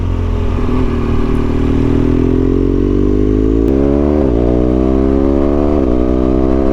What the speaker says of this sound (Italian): E questo è il traffico che stiamo trovando adesso.